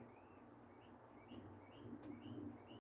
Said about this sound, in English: Hearing the birds chirping is nice.